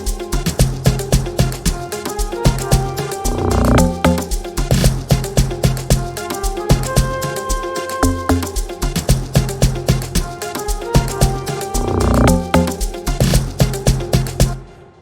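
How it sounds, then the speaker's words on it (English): An amapiano bass line programmed in FL Studio, a deep rhythmic low-end pattern pulsing steadily inside a full, loud beat with percussion and melodic layers for the whole stretch. "then the next thing was a bass line"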